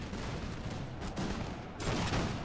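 Gunfire from an artillery battle in Napoleon Total War rolls on in a busy game soundscape, with a couple of sharper volleys and booms breaking out over continuous battle din.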